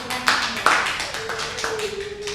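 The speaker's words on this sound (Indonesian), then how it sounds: "Tepuk tangan." A handful of sharp, distinct hand claps ring out in a classroom during a Japanese-language micro-teaching lesson, spaced unevenly over a couple of seconds.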